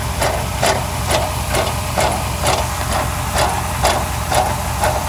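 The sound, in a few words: exhaust pipe rattling on a Chevrolet Suburban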